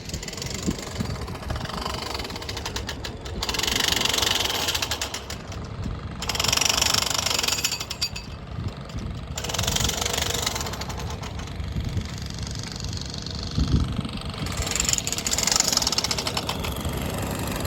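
A tractor engine drones throughout with a rough, knocking idle, fairly close, near Rathoa Haryam Bridge, Mirpur, Azad Kashmir, with bursts of brighter noise coming and going over it.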